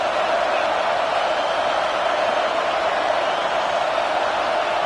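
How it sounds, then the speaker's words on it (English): Constant roar of a large football stadium crowd, a dense wash of many distant voices blending into one steady, loud hum. "This crowd bringing the energy and noise early."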